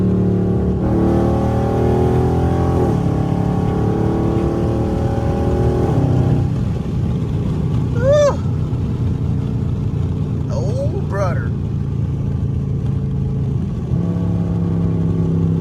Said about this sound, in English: I'm gonna give y'all a little downshift and pull real quick before I drop the goddamn camera.